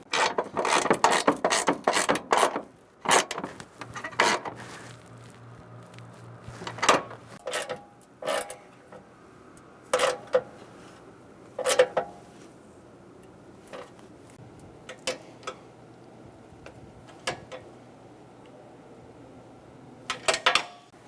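Ratchet wrench clicking in repeated short bursts while bolts are tightened on a 2014-2018 Chevrolet Silverado during AC condenser and receiver drier replacement, with pauses between runs and a faint low hum underneath.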